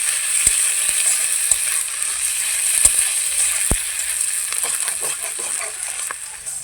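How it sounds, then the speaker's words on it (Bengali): Onion with garlic paste and ginger paste fries in a pan, a steady bright sizzle with occasional spoon knocks and scrapes against the pan, close and continuous. "পেঁয়াজের সঙ্গে ভালোভাবে ভেজে নেব।"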